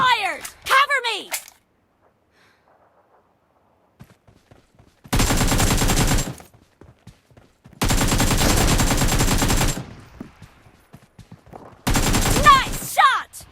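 Bursts of automatic gunfire from the battle royale game PUBG/BGMI in a team match, three loud sustained volleys after a quiet stretch, with brief voice callouts between them.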